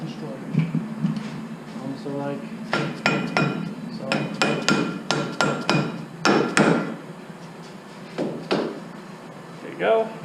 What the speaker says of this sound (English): If you have to hit it, do not hit it with a metal hammer, use a dead blow